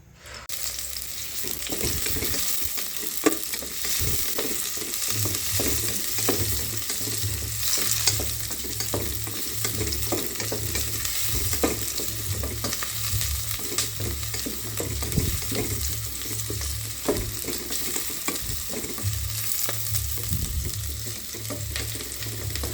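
Cooking oil sizzles in a pan for a home-style chicken tinola, a steady close frying hiss broken by stirring scrapes, with background music running beneath.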